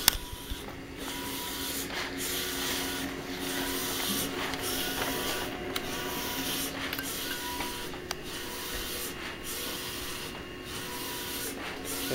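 An HP DesignJet 500ps large-format printer runs steadily, its print head sweeping back and forth in regular passes with a constant mechanical hum and rhythmic swishes, close and alone.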